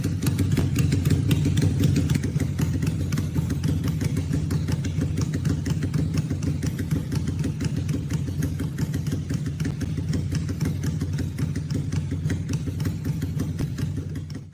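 A Benda Napoleon motorcycle idles close by, its engine giving a steady, low, rapid pulsing thump that holds evenly throughout with no other sounds.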